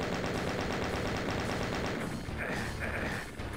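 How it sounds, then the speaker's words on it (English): Rapid machine gun fire from chaingunner enemies in the Doom game Plutonia Experiment, a dense continuous rattle of shots filling the clip, with a brief high electronic tone partway through. "There are chain gunners all over the place."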